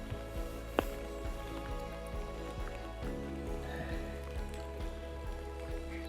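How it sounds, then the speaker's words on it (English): Light rain begins falling at a spring carp-fishing swim, scattered drops tapping irregularly on a nearby surface over a steady low drone, with one sharper close tap early on. "the rain's just started to come in"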